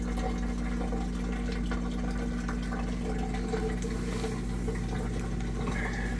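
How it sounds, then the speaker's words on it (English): A Whirlpool washer with a drain fault slowly drains water, a steady low rushing and gurgling flow with a constant motor hum underneath, unbroken and moderately loud throughout. "you can see that the water's draining very slowly"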